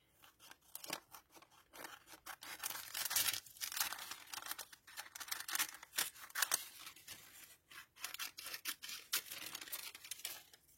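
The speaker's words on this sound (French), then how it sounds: "Les petits ciseaux." Small craft scissors snip through paper embellishments for a vintage-style junk journal, giving a close, steady run of crisp cuts and crunchy paper crinkles with short pauses between strokes and no talking.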